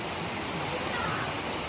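Heavy rain pours down in a village during sunshine, a thick, constant roar of drops on surfaces nearby, unbroken through the short stretch.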